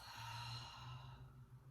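A soft, slow exhale out through the mouth during a flow exercise session, faint and close, over a low steady hum with no talking.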